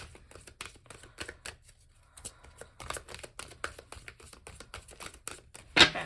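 A tarot card deck is shuffled by hand in irregular bursts of crisp riffling and soft slaps, with quiet gaps between and a louder snap near the end.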